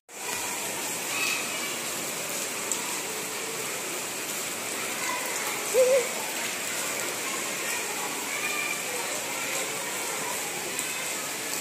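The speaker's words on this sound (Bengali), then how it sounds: "কি মুসলধারে বৃষ্টি নেমেছে।" A heavy monsoon downpour pours down as a steady, dense wash of noise that holds without a break, with one brief faint sound rising slightly near the middle.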